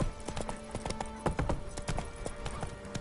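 Hooves of the horse Roach clop rapidly and rhythmically in The Witcher 3 video game, a quiet, steady trotting patter of many overlapping hoofbeats with a faint tonal hum behind it.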